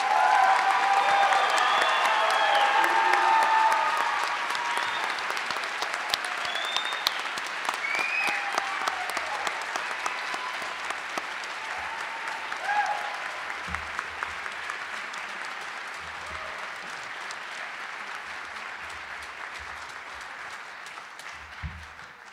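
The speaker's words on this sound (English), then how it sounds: "Audience, please join me in final round of applause for these extraordinary young women and men." Sustained audience applause fills a graduation ceremony hall, loud and dense at first and then gradually thinning and softening over about twenty seconds, with no talking over it.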